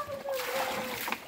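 Water splashing close by, a burst of splattering and sloshing with a faint tonal whine underneath.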